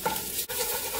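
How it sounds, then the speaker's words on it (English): Rice with smoked paprika being stirred and scraped against the bottom of a pot, a close, steady scraping with a light sizzle beneath, broken by one brief pause midway through the short stretch. "Scrape the bottom just a little bit."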